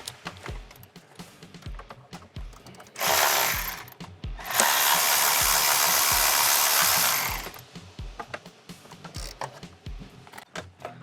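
Two 8mm bolts on a fuel line support bracket are broken loose during a Nissan Frontier supercharger install. Two long, loud bursts of whirring tool noise rise over a background of small clinks and taps.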